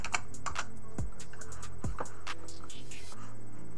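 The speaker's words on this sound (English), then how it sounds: "I'll just be typing that in." Rapid, uneven clicking of keys on a computer keyboard, close and steady, with a couple of heavier thumps mixed in.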